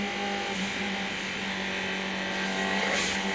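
Onboard camera sound from Colin Bond's Ford Sierra, car 8, a Group A touring car racing at Bathurst in the 1991 1000 km race: a steady, loud, droning engine note with harmonic whine, continuous throughout with no talk.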